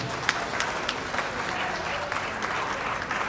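Audience applause at a stand-up comedy show in a luxury hotel hall in Abuja, a dense even roar of many clapping hands sustained throughout, with a few sharper individual claps standing out near the front.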